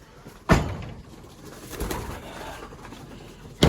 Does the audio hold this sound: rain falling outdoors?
no